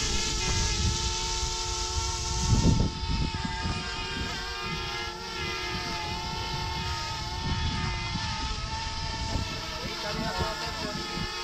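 A camera drone flies at a snake rescue in Kenya, its steady multi-tone propeller whine holding throughout at moderate loudness while people speak and move nearby.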